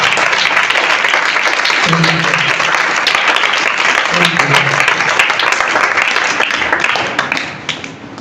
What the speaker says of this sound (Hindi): के लिए जोरदार तालियां।